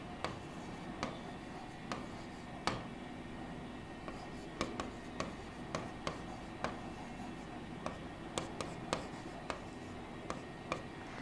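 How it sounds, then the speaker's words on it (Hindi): Chalk or marker tapping and scratching on a board during a spoken-English narration lesson, a series of short sharp ticks in an uneven rhythm over quiet room tone. "हम इसको उल्टा लिख लेते हैं"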